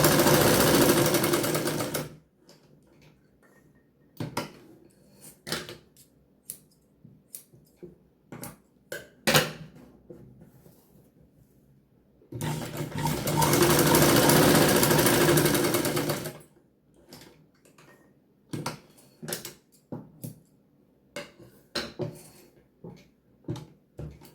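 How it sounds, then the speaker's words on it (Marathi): A sewing machine stitches four tucks on a blouse in two sustained runs of loud whirring, with a pause of scattered clicks and handling knocks between them and after. "चारे टक्के शिलाई घ्यायची।"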